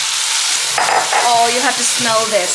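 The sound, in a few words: fresh tomatoes added to sizzling spices in pan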